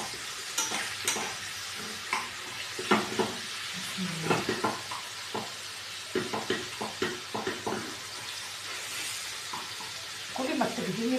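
Food stirred and sizzling in a hot pan, sautéed ahead of the onion for a creamy eggless béchamel pasta bake, with repeated scraping stirs over a steady close frying hiss.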